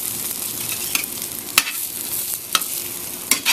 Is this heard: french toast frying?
yes